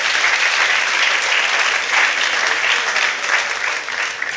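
A crowd at a Fête de l'Humanité 2023 talk breaks into loud, sustained applause, a dense steady clatter of many hands that eases slightly toward the end.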